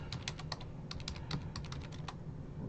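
Soft, rapid keystrokes tap on a computer keyboard in an uneven run of clicks, faint and close over a low background hum, with no speech.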